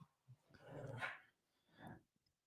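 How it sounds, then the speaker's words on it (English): Dogs play-fight, giving a faint, rough growl and snarl that swells for about a second, then a shorter second growl, with no voices. "Dogs are fighting."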